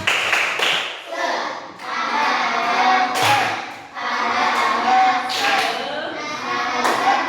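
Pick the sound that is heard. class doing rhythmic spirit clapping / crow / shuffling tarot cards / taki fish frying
class doing rhythmic spirit clapping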